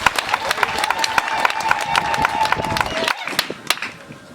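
A congregation at a funeral send-off in Mwingi claps in a brisk, even rhythm of sharp, close hand claps, with a sustained sung note running beneath the beat for about three seconds before the clapping thins out.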